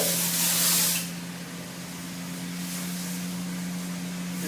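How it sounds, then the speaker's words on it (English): OrangeForce pre-spray hisses onto a heavily soiled carpet traffic lane in one loud burst of about a second, followed by a steady low mechanical hum and fainter spray hiss. "I'm going to put a lot more pre-spray on here"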